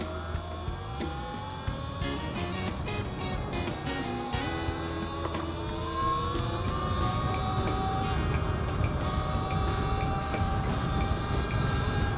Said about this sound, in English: Oh my god. Trains.